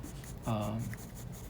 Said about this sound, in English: I'm going to bring back my 5B and let's just do some fur down below